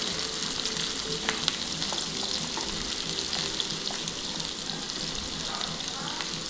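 Sliced onions and green chillies fry in oil for bitter gourd fry, a continuous close sizzle with bubbling crackle and occasional stirring clinks against the pan.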